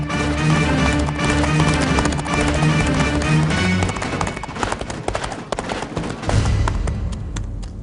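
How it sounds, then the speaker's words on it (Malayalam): Horse hooves clip-clop in a rhythmic run through a Malayalam film scene, loud and close at first, then fading under dense music and effects, with a heavier rumbling passage near the end. "ഈ സമയത്ത് എവിടെ നടാ കുതിരയുടെ ശബ്ദം?"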